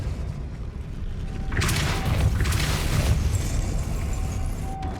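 Depulso force spell cast in Hogwarts Legacy, a rushing, booming blast that swells mid-clip and lasts a couple of seconds before easing back into steady game ambience.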